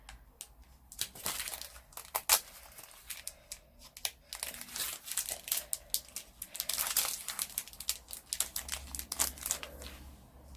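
Plastic packaging around a ruler crinkles and crackles as it is handled and pulled open, a close, busy run of irregular rustling bursts with no talk.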